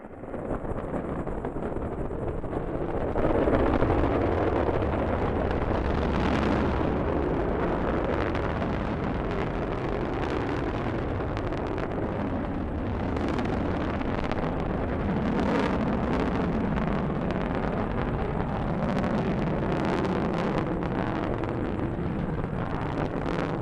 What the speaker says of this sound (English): Liftoff of the Delta rocket carrying GLAST, a gamma-ray telescope searching for unseen physics in the stars of the galaxies.